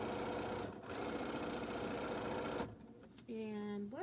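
Sewing machine running steadily while stitching quilt seams, a continuous near whirring hum for several seconds that stops abruptly, followed by a person speaking.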